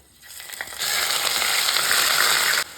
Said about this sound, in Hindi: हल्के से जब मसाले तड़क जाए तो डाल देंगे दरदरे पीसे हुए प्याज को